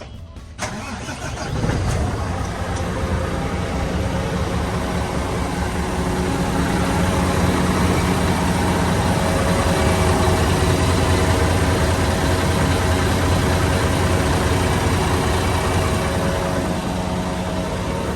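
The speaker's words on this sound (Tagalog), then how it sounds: "Pakinggan ng andar ng makina." A truck engine cranks and catches, then settles into a loud, steady idle rumble that continues for the rest of the clip.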